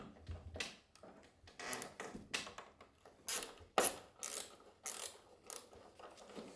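Rusty metal fittings and screws being worked loose from an old castle door in a French château, giving scattered ratcheting, scraping and clanking bursts at close range with short pauses between, and no talking.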